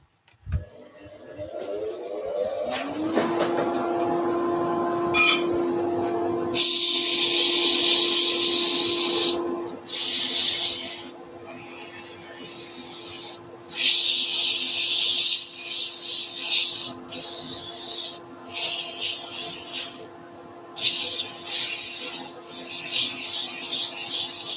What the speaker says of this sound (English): a little bit of sanding, a little bit of dust extraction.